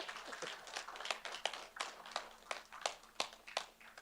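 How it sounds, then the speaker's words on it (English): A school board meeting audience claps for a student group, sparse and uneven with distinct individual hand claps, fairly quiet and somewhat distant, with no talk over it. "Audience, please give Threads and its members a big SBCUSD round of applause"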